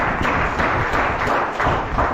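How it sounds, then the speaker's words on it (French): A church congregation claps together in a steady, rhythmic beat that fills the room with broad, even applause for a short stretch. "Vous pouvez applaudir ma famille pour la gloire de Dieu."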